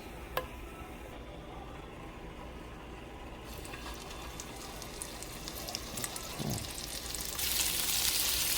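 Scallops sear in hot butter in a frying pan, giving a steady crackling sizzle that swells louder near the end, with no talking.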